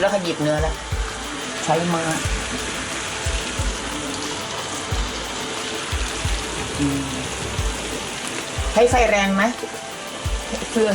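Beef sizzling and frying in butter in a hot pan over high heat, a steady crackling hiss running throughout with people talking intermittently over it.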